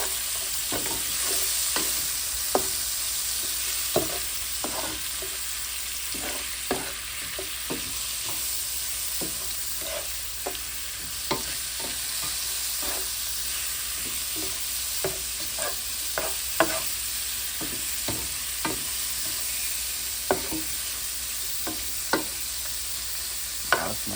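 A spoon stirs Cajun smothered fried cabbage in a pan, with a steady background sizzle and a string of soft scraping clacks at irregular intervals throughout.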